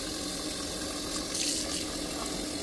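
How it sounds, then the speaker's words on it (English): Cold water runs steadily from a kitchen sink tap onto rice, a continuous, close hiss and splash with no talk. "So, I'm using cold water from the sink."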